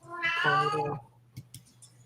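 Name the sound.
cat meowing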